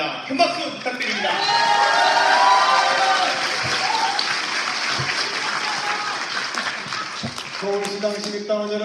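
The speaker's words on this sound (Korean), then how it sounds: "축하 말씀 듣도록 하겠습니다. 큰 박수 부탁드립니다." Sustained applause from a big audience at a Democratic Party new-member academy event in Korea, loud and even, with scattered shouts and a few voices rising through the clapping.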